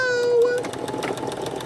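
A home sewing machine backstitches the final seam of a sweatshirt, a short whirring motor burst followed by rapid rhythmic needle clatter, close and fairly loud, with a brief voice over the start.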